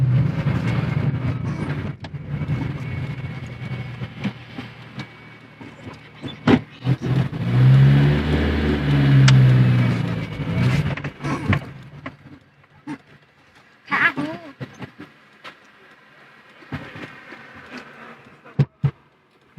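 A Chevrolet Celta running on ethanol, fitted with a sport exhaust tip, idles and then revs hard in a loud, rising burst near the middle, followed by quieter idling and a few sharp bangs.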